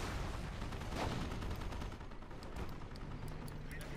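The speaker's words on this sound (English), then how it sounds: "Lots of shots fired." Dense gunfire from a World War II battle in Company of Heroes, with rapid shots and machine-gun bursts crackling over a steady rumble of combat, loud and continuous throughout.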